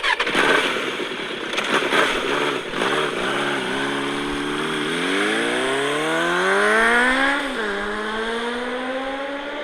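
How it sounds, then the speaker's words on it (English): A motorcycle engine cranks and catches, then revs up through rising gears as the bike speeds away, a loud, continuous climbing whine with brief dips between shifts. "He gets on the Batbike, starts it off, and takes off."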